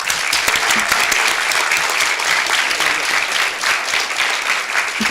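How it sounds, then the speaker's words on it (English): Audience applause at a Pennsbury School District board meeting honouring high school students, a steady dense clapping that stays loud and even throughout without pause. "round of applause"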